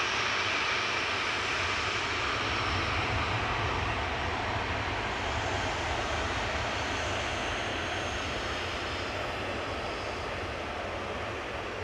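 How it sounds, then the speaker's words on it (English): A Ryanair Boeing 737-800 jet bound for Barcelona gives a loud, continuous roar at Manchester Airport, the engine noise steady and close for the whole stretch with no talking. "This is Ryanair flight 7542 heading over to Barcelona. EVL is 737-800."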